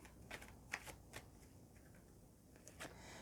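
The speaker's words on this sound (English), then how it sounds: "Let's just shuffle the cards and just see what the main message is coming out for you." Tarot cards being shuffled by hand, a quiet run of soft riffling flicks and light snaps spread across a few seconds, close and faint with no talking.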